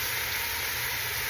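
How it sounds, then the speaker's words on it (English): Beef frying in a pan for a stew gives off a steady, soft sizzle, an even hiss with a faint low rumble underneath and no voices. "You hear it sizzling?"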